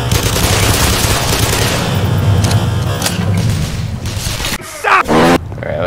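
Shotgun and other gunfire in Black Mesa sound as loud, close bursts of repeated blasts, with grunts and combat noise around them and a sharp final shot near the end.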